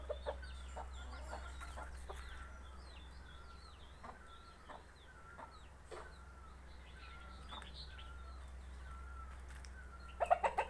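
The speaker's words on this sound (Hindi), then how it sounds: "ये सब जो हैं ये देसी मुर्गियाँ हैं और ये मुर्गा है।" Desi hens and a rooster clucking in a farmyard, a faint, steady run of short repeated clucks over a low hum, growing a bit louder at the very end.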